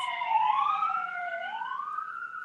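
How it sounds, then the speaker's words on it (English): Sirens wail outdoors, a rising and falling electronic tone that sweeps steadily for the whole stretch, moderately loud and unbroken with no talking. "I hear sirens out there going crazy"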